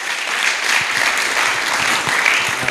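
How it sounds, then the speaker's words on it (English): An audience at a national polytechnic event applauds its chief guests, a short, continuous wash of many hands clapping at a steady level with no speech over it. "Now, a better clap for our chief guests."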